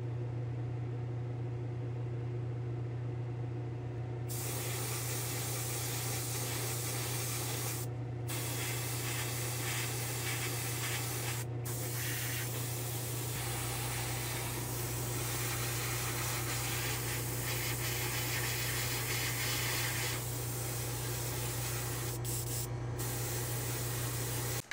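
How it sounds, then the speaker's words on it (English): A steady, loud hiss of white spray paint in a spray booth runs continuously, with a few brief pauses and a constant hum of ventilation underneath. "I'm going to go spray these with some white"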